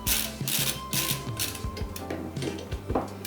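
Screws on a Prusa MK4 3D printer build are tightened with a hand tool, producing close, rapid ratcheting clicks in short runs with brief pauses, quiet and without speech.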